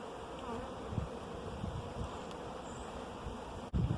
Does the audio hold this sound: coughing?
no